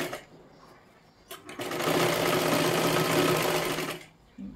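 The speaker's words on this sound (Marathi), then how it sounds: "अशा पद्धतीने शिलाई मारून घ्या." A sewing machine stitches silky blouse fabric in one sustained burst of a couple of seconds, preceded by a few short starts, with a close, loud, steady mechanical whir.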